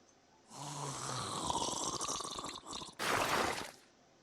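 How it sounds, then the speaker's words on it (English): The Hag, a killer in the video game Dead by Daylight, breathes in looping effects: a raspy, snore-like rush of breath lasting several seconds, a short pause, then a louder burst of exhaled breath. It is close and heard alone. "you can hear her breathing, and right away, it's just on a 5-second loop and makes different breathing sound effects"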